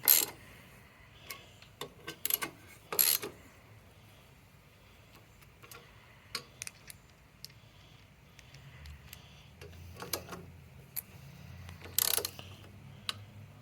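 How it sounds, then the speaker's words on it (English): Bolts holding a lawn mower blade are tightened a little at a time, giving sparse, quiet ratchet clicks and metallic taps with short gaps, and no talking. "So I'm going to go tighten a little bit on each one."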